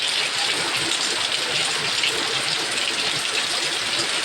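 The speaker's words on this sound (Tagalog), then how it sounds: "Malakas na naman ang ulan." Heavy rain pours steadily, a dense, loud hiss of water with no pauses.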